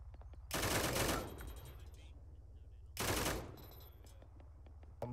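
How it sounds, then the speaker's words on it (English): A bomb dropped from a jet in Arma 3 rushes in with two long, loud roaring bursts that swell and fade, separated by a quieter stretch of rumbling background. "Bomb falling in."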